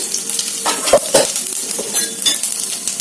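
A spoonful of cumin seeds sizzles in hot oil in a pan, a close, steady crackling hiss broken by a few sharp utensil clinks against the metal.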